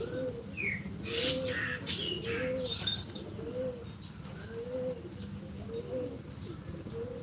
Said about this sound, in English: Yeah, birds singing, and of course we got some homing pigeons.